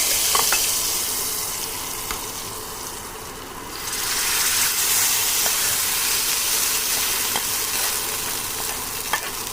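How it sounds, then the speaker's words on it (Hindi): Hot tadka of Kashmiri red chilli hits a pot of dal and bursts into a loud, dense sizzle that swells partway through and then holds as a steady, close hiss with no voices. "फ़ौरन ही हम इस तड़के को डाल देते हैं दाल में"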